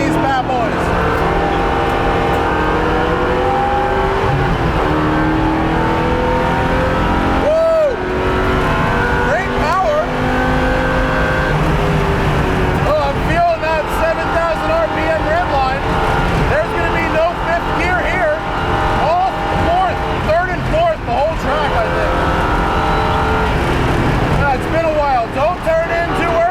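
A 2015 Chevrolet Camaro Z/28 race car on slick tires runs hard on a track, its loud engine continuously roaring, rising and falling through gears from inside the cabin, with a voice talking over it.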